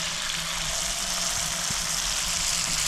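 Unniyappam batter poured into hot oil in a new nonstick appam pan makes a continuous, fairly loud sizzling hiss that stays even throughout, with a low hum beneath.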